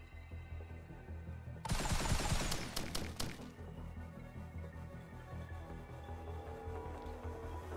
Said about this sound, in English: Basically just sends out three little grenades.